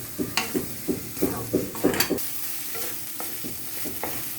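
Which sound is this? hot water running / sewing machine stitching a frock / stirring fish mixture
stirring fish mixture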